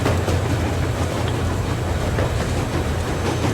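Train rolling along in Metro Exodus, a steady, loud low rumble with a rhythmic clickety-clack of wheels on rails running throughout, with no voices.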